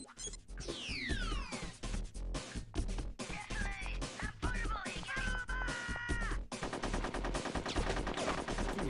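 Rapid gunfire in the video game Conker's Bad Fur Day, repeated sharp shots and bursts mixed with whistling game effects and a cat-like squeal, dense and loud throughout.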